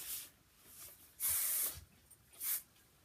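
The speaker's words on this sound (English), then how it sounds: "just touch her up with a little bit of spray" Two short hissing bursts of hair spray, the first longer and louder, the second brief, over a quiet background with faint rustling.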